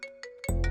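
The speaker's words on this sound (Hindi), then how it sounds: "देखो उस बदमाश का ही फोन आ रहा है" A mobile phone ringtone plays in a Hindi-dubbed South Indian film scene, a brief tonal ringing in short repeating bursts, clear and close, with no talk.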